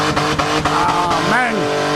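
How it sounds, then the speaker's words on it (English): A six-cylinder Holden Commodore does a burnout skid at a North Queensland burnout event, its engine revving hard and rising in pitch amid tyre noise, close and loud, with voices in the background. "Finally going to do a skid."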